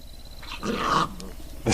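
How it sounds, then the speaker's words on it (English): Dogs snarl and growl in a short, rough scuffle at close range, with a sharp burst of noise right at the end. "dogs are fighting."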